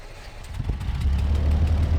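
A truck engine idles in the Mud Runner off-road video game, a steady low rumble building slightly and holding at a constant, fairly loud level with no voices over it.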